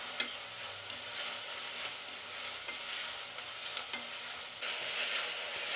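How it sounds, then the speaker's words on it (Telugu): Tomatoes and turmeric fry in a pan with a continuous soft sizzle while a spoon stirs them, scraping and tapping now and then, and the sizzle grows louder near the end. "మధ్యలో ఇలా కలుపుతూ ఉండాలండి."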